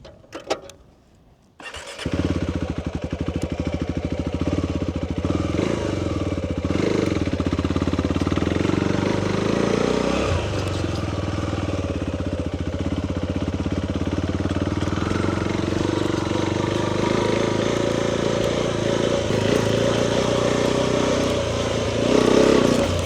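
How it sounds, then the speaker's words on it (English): A motorcycle starts up and rides across a homemade practice range on ground wet from heavy rain, its engine a loud, continuous close drone that rises and falls with the throttle, with no talking. "Riding this here carefully"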